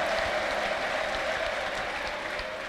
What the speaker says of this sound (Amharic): በደንብ እልልታ ለጌታ ጨብጨባ ለጌታ